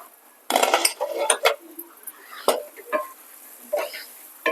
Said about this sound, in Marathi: पाच मिनिट झालेले आहेत झाकण काढूया